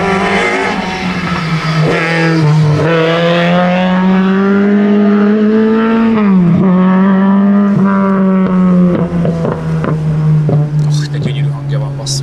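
The Lada VFTS race car's engine on a circuit lap, a loud sustained rasping drone close by, its pitch rising and falling through gear changes and corners.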